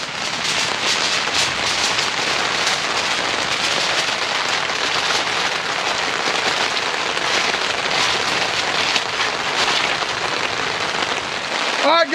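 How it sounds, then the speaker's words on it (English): Heavy rain pounds steadily on a tent at an outdoor cooking spot, a loud, dense, unbroken patter that fills the whole stretch with no voices over it. "You can hear the rain coming down hitting the tent."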